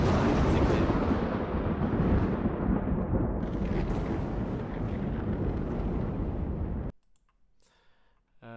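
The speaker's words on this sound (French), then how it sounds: "Ouais, par exemple, une tempête." Storm sound effect from the Roll20 tabletop platform: a loud, continuous broadband roar with rumbling, crackling texture for about seven seconds, then it cuts off abruptly to near silence with a few small clicks.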